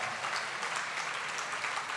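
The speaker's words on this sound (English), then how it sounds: "So, give yourself a big hands of applause." Applause from the audience at an annual fundraising gala, a short burst of many hands clapping, moderately quiet and even throughout.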